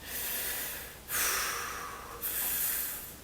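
Two deep breaths drawn in through the chest, each a close, airy rush of air, separated by a brief pause with no talk.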